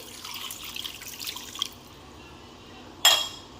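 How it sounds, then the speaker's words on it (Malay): Water is poured from a container into a cooking pot holding palm sugar and granulated sugar while making a syrup, giving a close, splashy pour for about a second and a half, followed by a brief sharp splash near the end. "Kemudian kita masukkan air."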